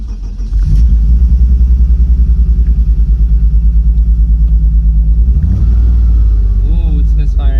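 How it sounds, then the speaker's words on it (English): A truck's engine cranks and catches, running with a rough, uneven misfire, a loud steady low rumble with a lumpy pulsing beat that swells again near the end. "Ooh, it's misfiring."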